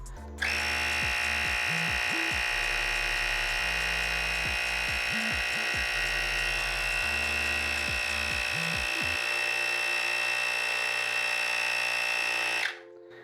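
Electric pump inflating an enduro tire on a DIY Onewheel, a steady high mechanical whine with a rattling, pulsing motor note, running close and continuously for about twelve seconds before cutting off.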